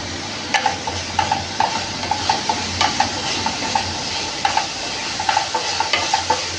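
Onions with green chilli sauté in a hot pan on a raised flame, a steady sizzle running under repeated scraping strokes of a spoon, close and alone with no talk.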